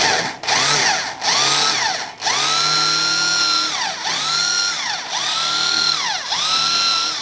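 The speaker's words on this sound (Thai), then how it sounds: "ค่อยๆเจาะลงไป" A power drill bores into wood to make a Thai black machete (มีดโต้) sheath, running in several sustained bursts with brief dips as the bit bites and eases, loud and close with no talk.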